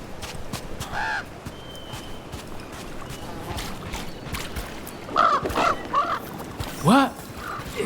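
Crow in Dragon Age: The Veilguard giving a few loud, harsh caws near the end, with a single call earlier, over quiet game ambience and soft footsteps.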